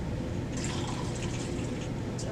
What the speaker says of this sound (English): And you're going to carefully pour the Hypo